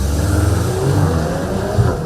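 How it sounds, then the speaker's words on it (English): A 2021 Volkswagen Golf R with a 320 PS engine, launched hard on launch control: a steady, loud low exhaust burble and rising engine drone, close and continuous with no talking. "you'll get a purposeful exhaust burble that sounds promising"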